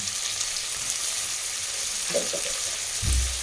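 Small onions sautéing in a pan for mutton kuzhambu, with a steady bright sizzle throughout and a few stirring knocks near the end.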